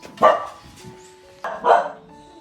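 A dog barks twice nearby, two sharp, loud barks about a second apart.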